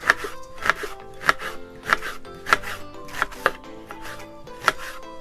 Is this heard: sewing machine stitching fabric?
no